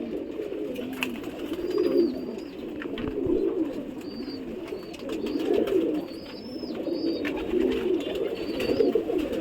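Champion pigeons coo close by in repeated, rolling low calls that rise and fall in bursts, with a few faint higher chirps in between and no talking.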